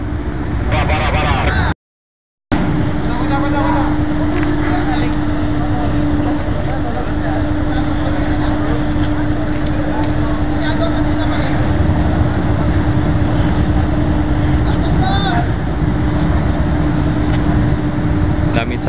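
Large passenger ship Starhorse XII, a steady engine drone with a constant low tonal hum and broad rumble, loud and close throughout, with a brief dropout near the start and voices faintly mixed in.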